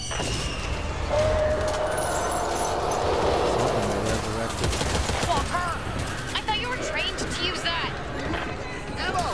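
Dense gunfire crackles in the zombie shooter Back 4 Blood, with rapid shots and busy battle noise running continuously. Characters shout over the shooting throughout.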